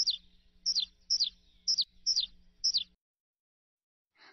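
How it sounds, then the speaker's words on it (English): Six short, high chirps from baby chicks in the video game Elinor Wonders Why, evenly spaced over about three seconds over a low background hum, then a brief faint call after a pause. "Oh, look! Little baby chicks!"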